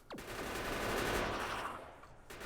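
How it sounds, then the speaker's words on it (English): Enemy gunfire in the factory-building game Factorio rattles as a steady, fairly faint burst of rapid shots lasting a couple of seconds, with no talk. "oh no, that guy's gonna shoot me, I think."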